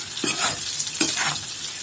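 Cumin-spiced potatoes sautéing in a pan, with a spatula scraping and tossing them in two strong strokes over a steady, close sizzle.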